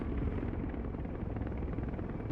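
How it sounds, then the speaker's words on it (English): Two Mi-26 heavy transport helicopters arriving in the Broken Arrow war game, a steady, dense low rotor-and-engine drone that holds constant and loud throughout with no gaps. "Another two Mi-26s. You guys come in."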